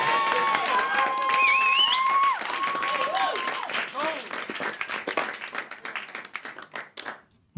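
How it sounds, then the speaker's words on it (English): Comedy club audience claps and cheers for a stand-up on stage, a lively burst that fades gradually, with whistles and shouting over the clapping before it trails off into scattered claps. "Have another clap."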